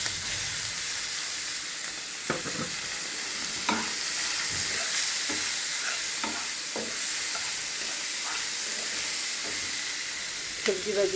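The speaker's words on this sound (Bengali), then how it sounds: "কড়াইতে তেল দিয়ে দিয়েছি এবার দিয়ে দেবো পেঁয়াজ কুচি" Chopped onions fry in hot oil in a wok, making a steady close sizzle with scattered scrapes and taps of stirring throughout and no speech.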